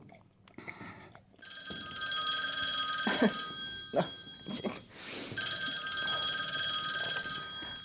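A telephone rings during a call, a steady electronic ringing tone that starts after a brief spoken word and keeps going loudly, broken by a few clattering handling noises.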